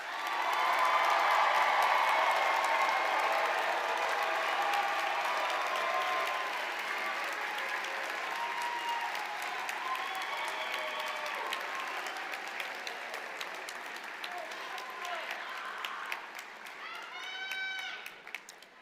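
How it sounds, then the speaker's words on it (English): A graduation audience applauds the graduates of a spring ceremony for the College of Architecture, Planning, and Landscape Architecture, with sustained crowd clapping and a few cheers, while voices chatter underneath and the applause gradually fades. "may I have one more round of applause for these wonderful graduates"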